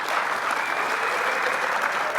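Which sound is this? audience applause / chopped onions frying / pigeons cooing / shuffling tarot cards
audience applause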